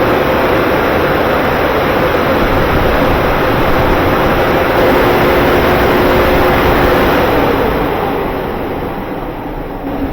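A powerful drive-through car wash blower dryer roars steadily with a dense, broad rushing noise, then eases slightly toward the end.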